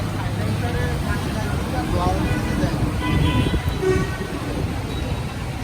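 Large vehicles plough through a flooded street at Royal Mor in Khulna during rain, pushing waves; a continuous heavy rumble and wash of water runs throughout, with people talking over it.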